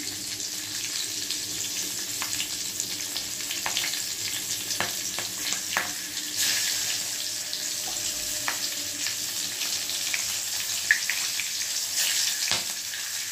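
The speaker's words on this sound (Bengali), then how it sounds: "1 চামচ মতন কালো জিরে ফোড়ন দিলাম, কাঁচা লঙ্কা ফাটিয়ে দিলাম" Nigella seeds and green chillies sizzle in hot mustard oil for a fish dish, a steady crackling fry with scattered sharp pops and spatters, close by and continuous with no talk.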